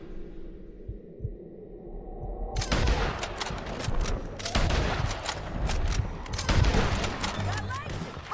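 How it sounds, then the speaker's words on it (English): Gunfire erupts in a Red Dead Redemption 2 shootout, a quiet stretch giving way to a dense burst of rapid overlapping shots that keeps cracking loudly with scattered sharp reports. "Let's just start shooting"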